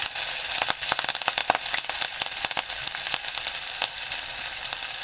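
Curry leaves frying in hot oil for a spicy dal tempering, giving a steady, close sizzle with dense crackling pops throughout and no talk.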